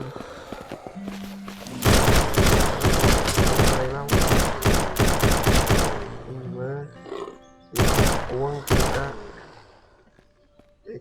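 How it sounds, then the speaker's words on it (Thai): Bursts of gunfire from the zombie survival video game SurrounDead: rapid volleys of loud shots in several clusters, with a voice talking between and over them. "ใช้ปืนใหม่ยิงเลยนะแม่งนะปืนเรา"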